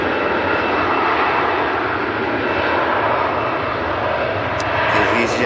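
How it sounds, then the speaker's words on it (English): An EasyJet airliner bound for Bordeaux roars steadily at Manchester Airport, a loud broad engine wash that barely varies, with faint voices in the background near the end. "EasyJet flight down to Bordeaux."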